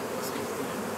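Honey bees swarming in July, with drones among them, fill the air with a steady dense buzz, continuous and close with no talk.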